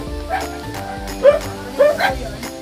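A dog in a rural forest settlement gives two short barks or yips close by, amid people talking near a house.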